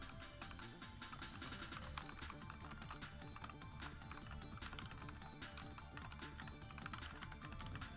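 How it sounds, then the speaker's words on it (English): Aggressive typing on a computer keyboard keeps up a dense, fast stream of clicky keystrokes under a constant background mix throughout. "Aggressive typing ASMR? Bro, this keyboard sounds so nice."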